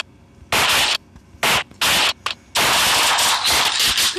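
Bursts of automatic gunfire in the video game Free Fire, several loud rapid volleys with short gaps between them, ending in a long sustained stretch of shooting.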